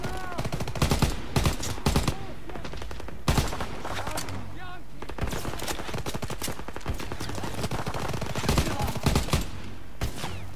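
Rapid bursts of machine-gun fire and scattered gunshots in the World War II shooter Call of Duty: WWII, rattling repeatedly across the whole stretch with brief pauses and a person talking in between.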